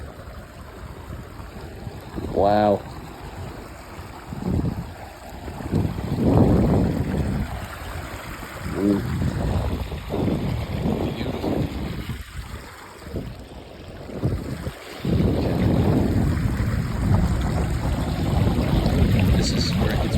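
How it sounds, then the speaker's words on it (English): A waterfall pours with a steady broadband rush while people talk over it, with bursts of wind buffeting the microphone. "Wow, look at that waterfall."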